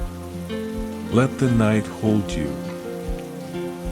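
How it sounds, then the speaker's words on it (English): Steady rain falls on a surface at night with a soft, even patter, while a calm voice speaks gently over it. "Let the rain do what rain does."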